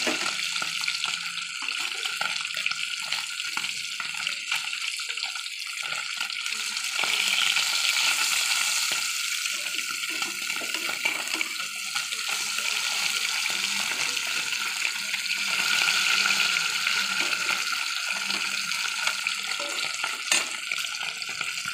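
Fish pieces fry in a pan for an aloo-and-koi fish dish, making a steady moderate sizzle with occasional stirring and faint water-like splashing. No one speaks.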